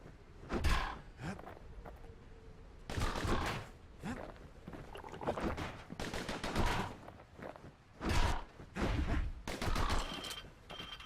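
Enemy gunfire in the Bastion video game, repeated bursts of shots coming in uneven clusters, loud and close, separated by short quiet gaps.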